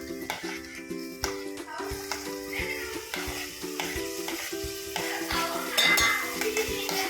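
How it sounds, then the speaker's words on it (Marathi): Onion and tomato masala paste being sautéed in a pan, with steady sizzling and the repeated scrape and clink of a spoon stirring against the metal in a regular rhythm, close and without talk. "तुमची पेस्टचा कच्चेपणा जाईपर्यंत छान छान परतून घ्यायचं आहे कांदा छान परतलाय"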